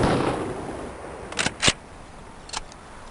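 Two close buckshot shotgun blasts from the MS-DOS game Police Quest: SWAT crack in quick succession, then a third, fainter shot, over a fading rumble.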